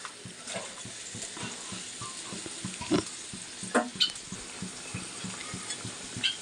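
Hilsa fish curry with eggplant simmering in a pot, a low bubbling, crackling boil with occasional soft clinks and scrapes, fairly faint and steady.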